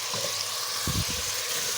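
Soft, steady sizzle of onions frying in oil until light brown, with a few brief low clunks of stirring midway.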